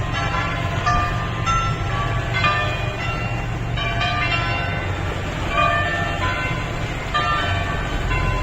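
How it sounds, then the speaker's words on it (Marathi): Church bells ring out in a series of clear metallic tolls, heard at moderate distance over a steady low rumble of background noise. "चर्चच्या घंटा वाजतात बघ"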